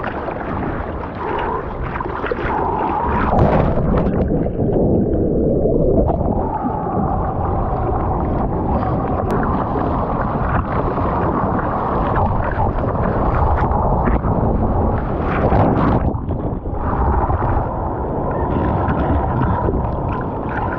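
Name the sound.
ocean waves breaking onto the sand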